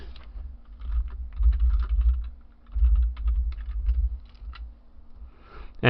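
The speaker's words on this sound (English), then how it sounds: "I'm just going to type up something." Steady typing on a computer keyboard, close and fairly loud over a low background hum, with quick runs of key clicks and short pauses between them, no talk.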